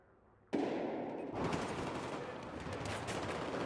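Rapid, sustained automatic fire from an AUG assault rifle in Battlefield 4, bursting in loudly after a quiet start and continuing as dense, overlapping gunfire through to the end.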